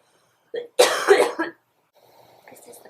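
Several harsh coughs from one person, a short cough followed by a cluster of three loud throaty bursts, then faint rustling and movement afterward.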